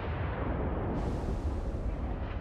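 Warship guns booming in a naval battle game aboard a Tirpitz battleship, a dense continuous low rumble of heavy fire and explosions with a sharper burst partway through, loud and sustained with no talking.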